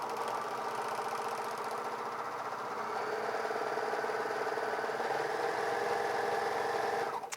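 A Bernina 700D serger fitted with a cording foot runs steadily while sewing French ribbon, a close, even mechanical whirr for several seconds before it stops.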